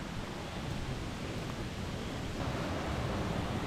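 Water rushes with a constant broadband roar near the top of Grotto Falls in British Columbia; the steady sound is fairly close, has no talk over it, and holds even throughout.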